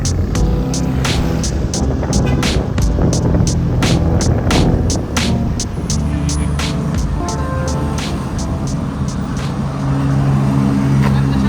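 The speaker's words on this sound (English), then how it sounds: "Driving along the coast now." A car drives along a coastal road near Subic Bay in the Philippines, a steady loud engine and road roar running continuously with repeated sharp clicks and knocks over it.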